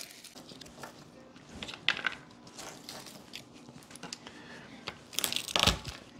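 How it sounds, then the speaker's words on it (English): Sharp knife chopping garlic finely on a cutting board, a series of irregular crisp taps and crunches at close range, growing into a denser burst of quick chops near the end. "We're gonna chop our garlic up really fine."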